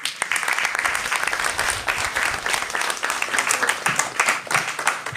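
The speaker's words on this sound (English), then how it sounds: "So now you can give them the big round of applause." Audience at a launch event for election broadcast guidelines gives a round of applause, dense steady clapping from many hands filling the room, close and loud throughout with no talk over it.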